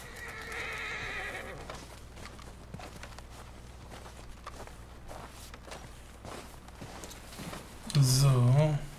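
Horses in the Red Dead Redemption 2 game, with hoof clip-clops and faint movement through most of the stretch, then a loud close neigh near the end; a low background drone and some indistinct talk run underneath.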